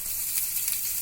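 Chopped green chilies and cumin seeds fry in a couple of spoons of hot oil in a pan, giving a brief, bright, continuous sizzle with small crackles, close and fairly loud.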